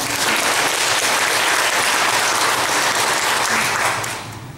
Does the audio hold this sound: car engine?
no